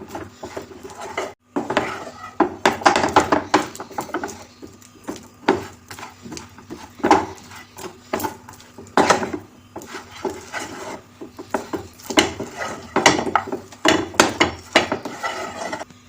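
Peanut and jaggery candy mixture stirred in a pan, a wooden spoon scraping and knocking in irregular bursts, close and fairly loud, with brief pauses between strokes.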